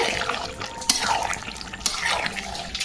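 Curry gravy boils and reduces in a pot, a steady wet bubbling and spitting with a few sharper pops, close and fairly loud throughout, with no one talking.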